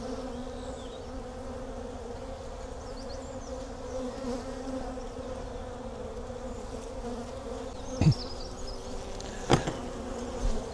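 Steady insect buzzing fills the scene at an open beehive during an inspection, a dense drone of many bees at close range, with a couple of brief sharper bursts near the end.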